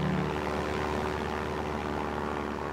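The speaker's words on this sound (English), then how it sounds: "So airplanes are used to go and help them find where the fishing is good or not so good." A small propeller airplane flies over Alaskan fishing waters, its steady, loud engine drone and propeller hum continuing without a break.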